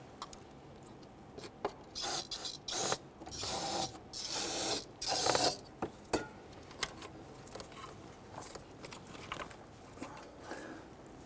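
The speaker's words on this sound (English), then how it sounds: "I'm going to spray the bottoms of the injector O-rings with some solvent and push those in." Solvent is sprayed from a can onto the lower O-rings of fuel injectors during intake manifold work on a 1999-2004 Jeep Grand Cherokee 4.7L V8, heard as several short hissing bursts followed by one longer burst, then faint handling noises.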